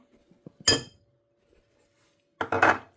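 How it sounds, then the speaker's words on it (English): A spoon or whisk clinks against a bowl while coconut oil, sodium bicarbonate and corn flour are mixed, in two short close bursts of clattering separated by a quiet pause, with no talking. "And we're going to give it a good mix."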